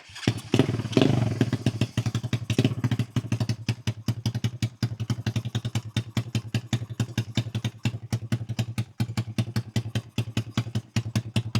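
A Boom Vader 125cc motorcycle engine with an aftermarket exhaust idles on choke with a steady, rapid thumping putter, loud and close, revving briefly at the start before settling into an even idle.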